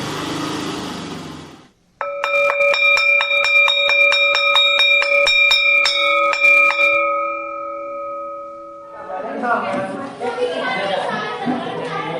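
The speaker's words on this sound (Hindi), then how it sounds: "तभी स्कूल छूटने की घंटी" A school dismissal bell rings loudly and steadily for about five seconds with a bright metallic tone, then fades as children's chatter and noisy playground voices fill the end.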